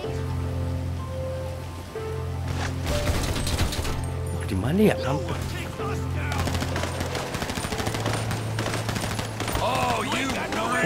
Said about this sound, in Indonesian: Siapa yang nembak